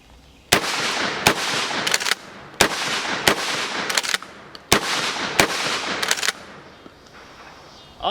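Rapid shotgun blasts from a DP-12 double-barrel pump shotgun loaded with buckshot, about ten loud sharp reports in quick pairs and bursts, each with a short ringing tail, fired outdoors close to the recorder.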